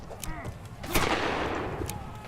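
A single loud gunshot rings out in the pirate video game Buccaneers!, a sharp crack followed by a lingering rumble of game ambience.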